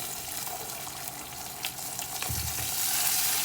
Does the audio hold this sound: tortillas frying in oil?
yes